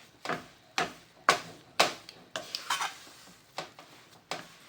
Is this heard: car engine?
no